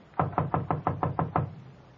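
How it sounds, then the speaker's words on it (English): Eight quick, even knocks rap on a wooden door for a 1949 radio drama, close and crisp, then the sound stops into quiet. "She knocked on the door of room 12."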